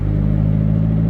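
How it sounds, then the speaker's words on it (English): Mazda Miata MX5 engine, NA or NB 1.6 or 1.8 four-cylinder, pulling under acceleration at low RPM with a steady, close, loud rumbling drone and no voices. "The engine should pull smoothly, even at low RPMs."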